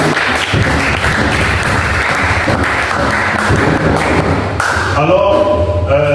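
Applause from a church congregation, a dense, steady patter of many hands that holds for several seconds and tails off near the end.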